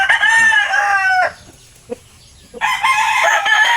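Two loud rooster crows close by, separated by a brief lull with a faint cluck in between.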